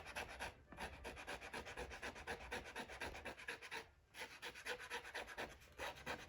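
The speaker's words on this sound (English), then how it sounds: "so I can scrape that away and clean that up as well" Surface dirt being scraped off a Torah tab under repair, a continuous rhythmic rasping stroke repeated close up, broken by two short pauses, with no talking.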